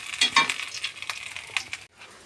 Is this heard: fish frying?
yes